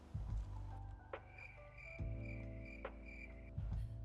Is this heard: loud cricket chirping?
yes